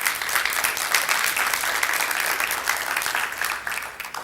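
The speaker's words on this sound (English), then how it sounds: "clap, get excited." A church congregation claps together in a sustained, dense burst of applause that holds steady for a few seconds before easing off slightly at the end.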